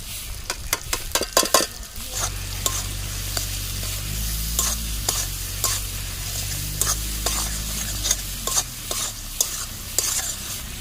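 Ground spices frying with tomato in a pan for egg curry, a continuous sizzle under repeated clattering strokes of a spoon stirring against the pan, busiest at the start, close and with no speech.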